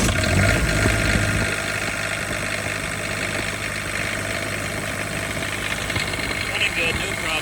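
An Onan QD8000 generator runs at idle on a steady test run after cleaning, a continuous mid-to-low engine drone with constant vibration, fairly loud and unbroken throughout.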